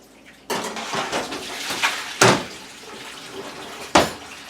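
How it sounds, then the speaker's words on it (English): Dishes and cutlery clatter in a sink with running water, several sharp clinks and knocks standing out over a steady wash, no voices. "Just dishes doing themselves."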